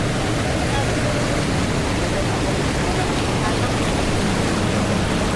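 A strong river current rushes at a crossing, a dense, steady roar of water close by and unbroken throughout.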